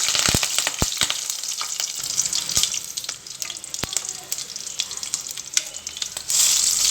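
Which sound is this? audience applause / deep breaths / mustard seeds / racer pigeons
mustard seeds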